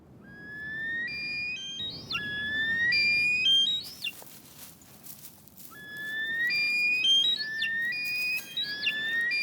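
Caucasian snowcocks calling in a territorial song contest high in the Caucasus Mountains, their loud, piercing whistled notes rising in repeated stepped phrases that carry far across open slopes.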